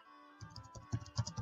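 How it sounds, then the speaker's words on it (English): Keyboard typing on a computer, a quick run of crisp, irregular key clicks close by that starts after a brief near-silence, with no one talking. "Maybe it would be better if I type."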